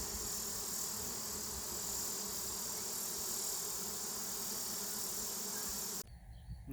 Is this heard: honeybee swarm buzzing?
yes